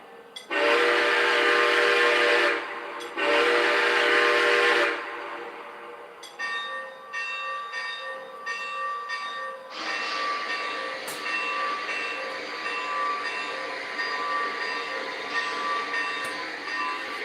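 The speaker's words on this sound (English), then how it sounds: "the cylinder steam is working, Jackson." A model steam locomotive runs with working cylinder steam, two long whistle blasts up front giving way to steady mechanical chuffing and rail running sounds that continue close and even to the end.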